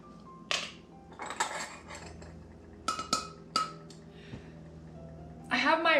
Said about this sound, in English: First thing we're going to do is mix all the dry ingredients into one bowl